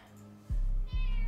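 Two short, loud cat meows in quick succession in a movie scene, low and close, over a quiet background.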